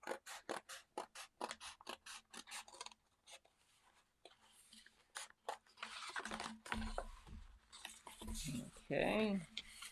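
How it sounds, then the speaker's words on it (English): Paper scissors snip through a paper quilt template in a quick run of crisp cuts, then slower rasping strokes, with someone talking quietly over part of it. "I'm going to now cut this. I'm using my paper scissors."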